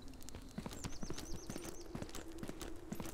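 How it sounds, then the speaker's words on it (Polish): Footsteps of an approaching figure in the video game Zero Sievert, a steady run of clopping, knocking steps at moderate volume over constant game ambience, with faint chirping higher up. "Ale słyszę kroki dość wyraźnie."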